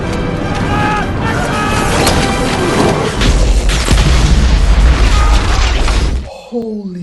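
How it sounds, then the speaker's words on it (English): A huge explosion in The Two Towers battle at the wall erupts into a long, deep roaring boom with crashing debris, rumbling loudly for several seconds before dying away into faint, distorted sounds. "Holy explosion!"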